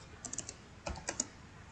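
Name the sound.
typing on a computer keyboard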